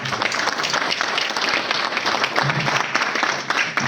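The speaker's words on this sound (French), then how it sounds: "je vous demande tous d'applaudir ce stand qui nous a accompagnés" An audience applauds a stand at a ministerial agreement-signing ceremony for the textile and clothing sector, a dense, steady roar of many hands clapping at once, loud and sustained throughout.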